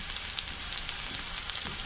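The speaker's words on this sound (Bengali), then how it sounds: "এটাতেই কিছুক্ষণ ভেজে নেব।" Hilsa fish tail paste with chili powder, turmeric and salt sizzles in a pan, a steady close hiss scattered with small crackles.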